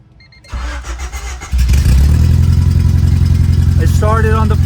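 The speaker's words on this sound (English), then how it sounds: "It started on the first crank" A Honda Civic race car swapped with a D16Z6 engine cranks briefly, then catches and roars into a loud, rough idle through a straight-out exhaust, close to the microphone. A voice calls out near the end.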